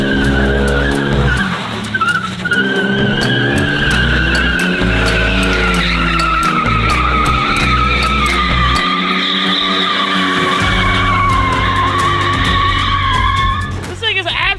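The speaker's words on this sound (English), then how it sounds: "it should be able to do good donuts." Tires skid and squeal almost without a break as a vehicle with a welded differential spins donuts, its engine roaring loud and close. The squeal fades only briefly partway through.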